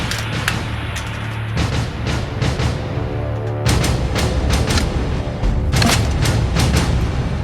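Fireworks spell in the video game Ultima 1, a rapid string of sharp synthetic bursts and booms crackling in irregular clusters over a steady low hum, loud and close, with no talking.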